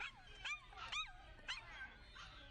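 Puppies and kittens shipped in sealed boxes in Chengdu squeal and yip from inside the packages, several sharp rising whimpers coming in quick bursts over a low background hum.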